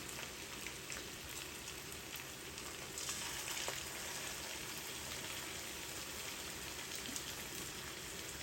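Meat kufta frying in oil makes a soft, steady crackling sizzle throughout, faint and even with a slight swell partway through.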